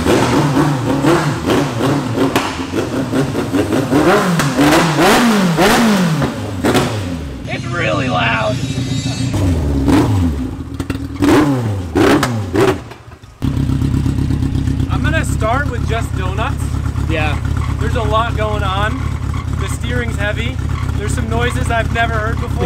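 An ultra-cheap race car engine capable of 12,000 RPM revs hard and climbs through repeated high-pitched sweeps, loud and close, with a short drop-out midway before the engine roars back at steady high revs.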